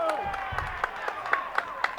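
A non-league football crowd at Salisbury versus Truro City claps and cheers after a goal, with scattered claps over a noisy murmur and a nearby voice talking over it.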